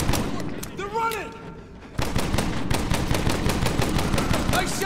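Rapid bursts of automatic gunfire in the Medal of Honor (2010) shooter, loud and continuous, with a shouted voice just before the shooting and dense firing filling the rest.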